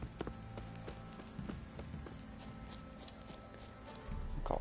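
Horse hooves clip-clopping in The Witcher III, a run of soft game footfalls at steady pace under ambient game music and effects, not very loud.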